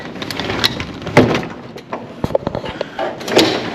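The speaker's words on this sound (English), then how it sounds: "This door is busted." A broken hotel room door being rattled and pushed, with scattered knocks, clunks and scraping of wood and latch at close range, irregular and fairly loud.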